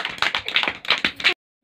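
Children clap in a quick, uneven burst of sharp slaps for just over a second, then everything falls silent.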